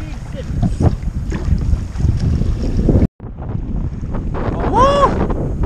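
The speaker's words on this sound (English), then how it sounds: "And the waves are getting rougher." Paddling on rough sea water, with gusting wind buffeting the microphone and waves splashing continuously. The sound cuts out for a moment, and a short voiced whoop rises near the end.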